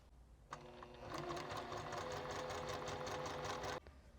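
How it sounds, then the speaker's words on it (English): A sewing machine stitches quilt fabric pieces together with a quarter-inch seam. It starts with a click, whirs steadily and rapidly for about three seconds, then stops abruptly. The sound is close and clear, with no talking. "I am sewing everything 1/4 inch seam"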